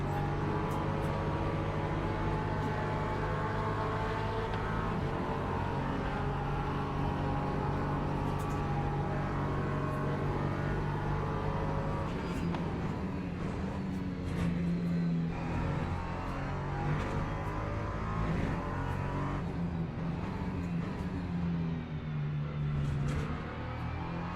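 LMP3 and GT3 race cars in an ELMS racing game at a rainy Algarve circuit, engines droning continuously and loudly with steady tonal whine and shifting pitch, spray and road noise beneath, no talk.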